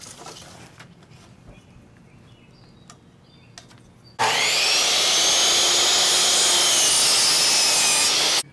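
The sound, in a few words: saw cutting wooden legs for a raised garden bed table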